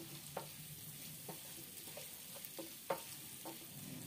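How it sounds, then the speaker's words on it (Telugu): Onions fry in a pan with a pinch of salt stirred in for a button mushroom curry. A faint, steady sizzle runs under a few sparse spatula scrapes. "ఉల్లిపాయలు వేగనివ్వాలి. మధ్యలో కొద్దిగా ఉప్పు వేసి కలుపుకోవాలి."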